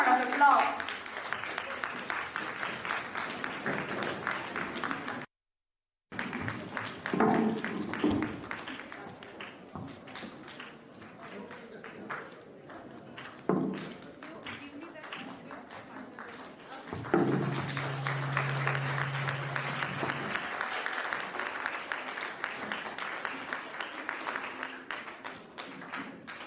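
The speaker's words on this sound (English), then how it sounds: "Give a big round of applause." An audience at a storytelling competition grand finale applauds in long stretches of steady clapping, broken by a brief silence and spots of talking.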